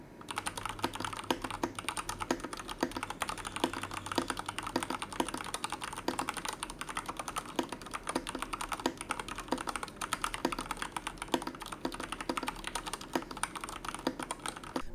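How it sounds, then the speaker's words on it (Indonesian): Mechanical keyboard typing test: steady, rapid key clacks and thocks run continuously for the whole stretch, close and crisp, with no voices. "Dan untuk tapping testnya silahkan kalian dengerin aja sendiri."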